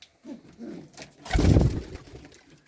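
Pigeons in a coop give a few low, soft coos close by, with faint rustling around them.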